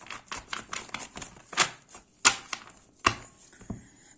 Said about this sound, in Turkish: Kartlarımı karayım tekrardan.